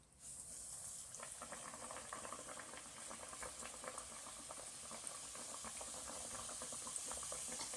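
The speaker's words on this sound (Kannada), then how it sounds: "ನೋಡಿ ಇವಾಗ ಡೀಪ್ ಫ್ರೈ ಆಗ್ತಾಯಿದೆ ಕಚೋರಿ" Kachori deep frying in hot oil, a steady, soft bubbling sizzle with faint crackles throughout, quiet and close with no voices over it.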